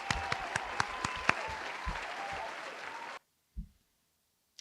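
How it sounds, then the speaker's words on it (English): A burst of audience applause with distinct individual claps, steady for about three seconds before stopping abruptly, followed by a couple of faint thumps in near silence. "we'll give her a round of applause"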